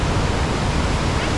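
Waterfall at Molinuco, Ecuador, a loud, steady rush of falling water filling the whole sound with a dense, unbroken roar and no voices.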